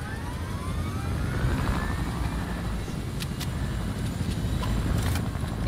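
Helicopter in the Fortnite video game: a steady, loud rotor and engine roar fills the whole stretch, with faint whooshing sweeps and brief clicks near the end.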